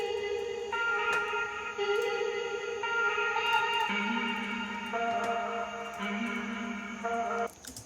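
A sustained tone shifts between steady held notes, heavily processed and washed in echo and reverb, with a brief drop-off near the end.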